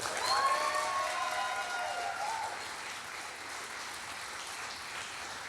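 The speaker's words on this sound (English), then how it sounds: "Can we make a massive round of applause to the Leicester Poetry Committee for making this happen?" A crowd at the Leicester Poet Laureate launch event applauds the Leicester Poetry Committee, a broad, sustained clapping that swells early and then settles into a steady wash of applause.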